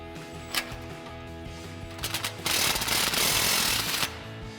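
An impact wrench snugs down an exhaust clamp on a 2019-2024 Silverado or Sierra 1500 Borla S-Type system, heard as a brief rattling burst, then a sustained loud hammering buzz lasting over a second, close up over a steady garage hum.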